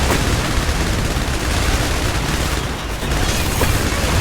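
Enemy gunfire and explosions in the video game IS Defense, a loud, continuous barrage of booms and rapid shots that dips briefly near the end of a short stretch.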